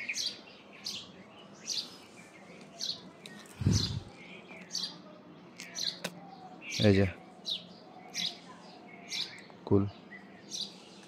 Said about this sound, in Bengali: পাখি চলে এসেছে, দেখছো?